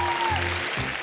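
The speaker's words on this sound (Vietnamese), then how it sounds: "Một tràng vỗ tay cho các vị giám khảo thưa quý vị" Applause breaks out for the judges at a Vietnamese televised talent show, a short, dense burst of clapping filling the room.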